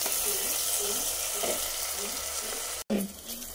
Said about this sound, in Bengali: এই যে আমার পেঁয়াজ ভাজা হয়ে গেল, দেখো লাল লাল করে ভেজে নিলাম